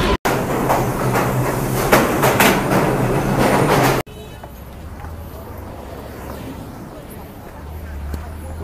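A commuter train rumbles and clatters loudly into a station with rhythmic clicking of wheels on rails, then the noise drops abruptly to a quieter steady hum with faint rattling.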